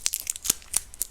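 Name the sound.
sticky tape being torn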